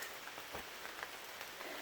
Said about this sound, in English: But as you can hear, I think, maybe, it's raining.